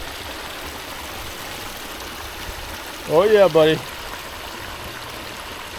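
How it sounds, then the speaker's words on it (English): A backyard pond waterfall pours steadily over rocks in a continuous broadband rush, with a man's brief exclamation rising over the flowing water midway. "Got a good waterfall going there."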